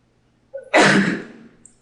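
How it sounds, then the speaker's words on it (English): A single loud sneeze up close, with a short sharp breath in just before and a trailing exhale after. "I'm gonna sneeze."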